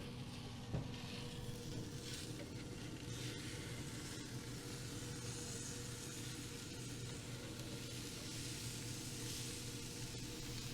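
Burger patties sizzling on a direct-flame grill just after flipping, a faint, steady crackling hiss that stays even throughout with a small pop near the start.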